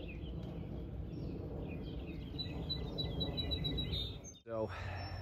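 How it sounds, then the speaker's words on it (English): Sparrows chirp in short high tweets from a rooftop, fairly faint and intermittent against a steady outdoor background, until a sharp close knock near the end. "Ooh, drive by sparrows."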